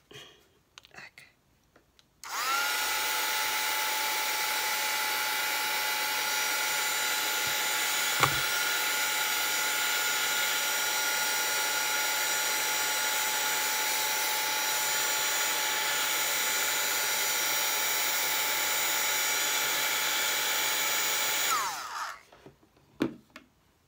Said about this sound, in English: That dryer works great.